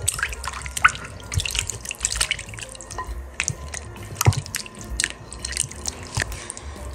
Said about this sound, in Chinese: 我们来抓拌抓拌，洗一洗